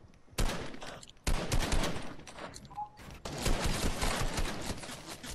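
Gunfire in the video game Fortnite, rapid bursts of automatic shots in dense crackling volleys with brief gaps, loud and close.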